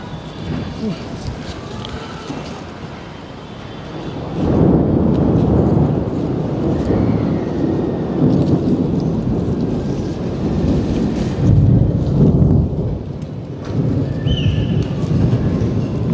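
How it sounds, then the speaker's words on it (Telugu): Thunder rumbles and rain falls during an unseasonal storm outdoors, a low broad roar swelling after a few seconds and holding steady with rolling peaks, with wind buffeting the microphone and people talking faintly underneath. "ఉరుద్దుని చూసారా?"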